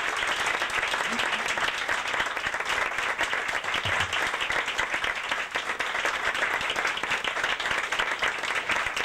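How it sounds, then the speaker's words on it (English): Audience applause at a live performance, loud and dense, a sustained, even roar of many hands clapping for the whole stretch. "thank you for that applause"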